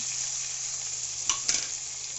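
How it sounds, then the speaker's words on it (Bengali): Spices and onions frying in hot oil in a pan, a steady close hiss of sizzling with a couple of sharper clinks of stirring partway through and no talk. "পেঁয়াজগুলা ভাজা হয়ে গেছে, এখন সব ধরনের মশলা দিয়ে দিন।"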